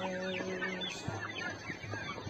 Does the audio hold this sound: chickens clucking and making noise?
yes